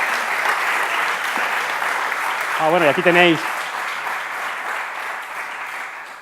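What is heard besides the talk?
audience applause at a tech talk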